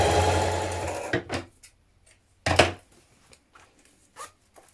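A sewing machine runs a seam down the edge of a trouser leg close to the zip, a steady whirring burst for about a second, followed by a few soft clicks and handling taps in a quiet room.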